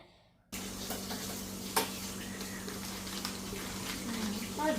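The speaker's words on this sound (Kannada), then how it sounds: "ಇವರು ಶಾಹಿ ಫಲೂದಾನ ಈ ಹಾಲಿಗೆ ಮಿಕ್ಸ್ ಮಾಡ್ತಾ ಇದ್ದಾರೆ." Shahi falooda being stirred into hot milk in a pot, giving a steady close wash of liquid swishing with a low hum underneath and one sharp clink partway through.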